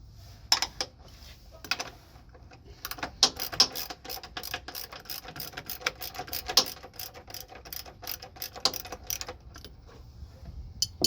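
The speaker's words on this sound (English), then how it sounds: "So I'm gonna start by removing this bolt right here, and that one takes a size 16 millimeter" A ratchet wrench works a 16 mm bolt loose on a Freightliner Cascadia truck during coolant reservoir removal, producing scattered sharp clicks and taps in uneven bursts, close and fairly quiet.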